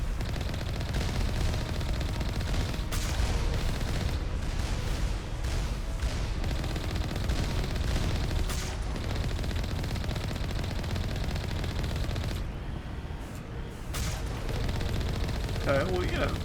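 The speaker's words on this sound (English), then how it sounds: "Oh, those are exploding missile things." Missiles exploding amid heavy gunfire in the sci-fi shooter Mass Effect, a dense, continuous barrage of rapid shots and blasts filling the whole stretch at steady loudness.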